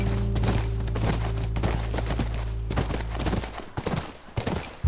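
Horse hooves clip-clop steadily in The Last of Us Remastered, a rhythmic run of hoofbeats on hard ground near a ranch, fairly close and loud over a low droning background.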